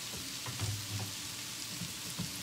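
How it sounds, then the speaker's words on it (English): Shrimp sauté in butter in a pan, a quiet, steady crackling sizzle with scattered faint pops and no talking. "let me get some butter for our shrimp to saute over here"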